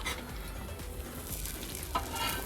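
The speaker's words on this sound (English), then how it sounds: "Making banana bread pancakes." Banana bread pancake batter sizzles on a pan over a campfire at a winter campsite beside a reservoir, giving a steady soft frying hiss with faint crackles and no talking.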